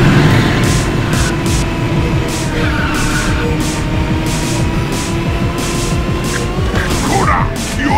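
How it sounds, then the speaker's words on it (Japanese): A race car drifts in Ridge Racer 6 on a Seacrest District route, its engine droning loud and steady with tire squeal layered over it and game music and a voice running underneath. "見事なドリフトじゃ。"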